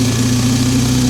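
Hero Extreme 160R 4V motorcycle engine running steadily at idle, a close, even low hum with no talk.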